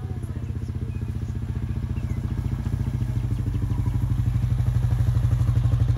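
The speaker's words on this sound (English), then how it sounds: "Buster Moon is on the four-wheeler." A four-wheeler ATV engine runs close by with a steady, rapid thumping putter that grows gradually louder over several seconds outdoors.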